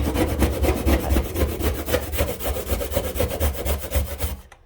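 A plastic scraper scraping paint off stainless steel makes fast, rhythmic rasping strokes, several per second, loud and close, in a steady back-and-forth pattern with no talking.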